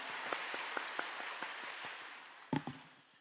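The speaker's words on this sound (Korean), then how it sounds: "우리 은혜의 말씀 주신 목사님께 다시 한번 감사의 박수 드리겠습니다." Church congregation applauding after a dawn service sermon, a steady wash of clapping from a crowd that holds for a few seconds with a brief louder burst near the end and no talk over it.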